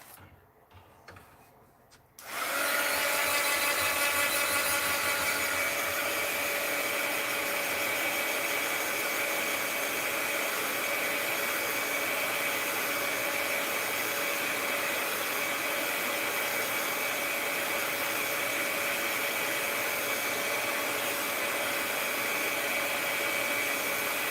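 A hair dryer switches on after a couple of seconds of quiet and then blows loudly and steadily, drying a mixed media art journal piece, with no one speaking.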